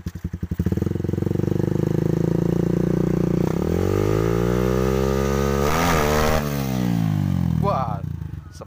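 A Honda CRF150 dirt bike, still factory stock apart from a replaced carburetor and CDI, revs up loud and close, its engine note rising and falling through several throttle blips, with voices talking over it.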